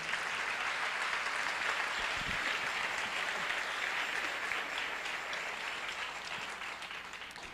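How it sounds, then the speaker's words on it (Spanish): Steady, dense applause from a church congregation fills the space throughout, a sustained wash of many hands clapping without pause, easing slightly toward the end. "Un aplauso al Señor."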